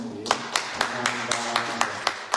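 A church congregation claps in a steady, evenly spaced rhythm, about ten crisp claps over a sustained low hum, moderately loud and close, with no talk on top.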